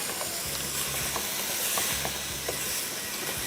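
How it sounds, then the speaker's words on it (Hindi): Beef mince (keema) fries in a pan with a continuous, close, hissing sizzle and faint crackles throughout, and no talking. "कीमे की पहले होगी भुनाई, ये भुनाई मस्ट है।"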